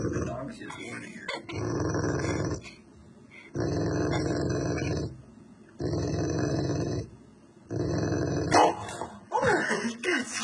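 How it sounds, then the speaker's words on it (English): A dog growls and barks in warning, in about four loud sustained bursts separated by short pauses, close by, with people talking around it. "The dog's just warning her."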